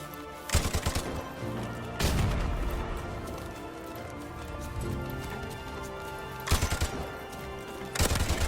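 M60E4 machine gun fired in Call of Duty, loud close bursts of automatic fire repeating several times with short gaps, game ambience and tonal music between the bursts.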